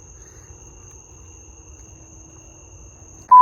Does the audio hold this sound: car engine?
no